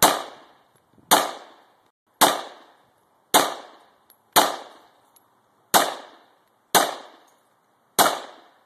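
Eight sharp, loud Beretta 92FS pistol shots fired at glass bottles, spaced about a second apart, each crack followed by a decaying ring with no voices.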